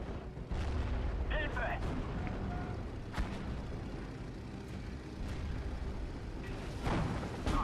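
Artillery rounds crash down in a Steel Division: Normandy 44 battle near a Pak-40, several dull booms and sharp reports scattered across steady low battlefield rumble, partly under a talking voice.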